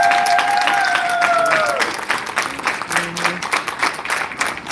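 Crowd applause at a city council meeting, starting loud and dense while a tonal whistle-like tone fades, then thinning into scattered uneven claps with a brief low hum near the end.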